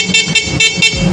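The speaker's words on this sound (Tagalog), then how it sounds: "Busina pa yan." A Rusi motorcycle horn beeps four times in quick, even succession, loud and close.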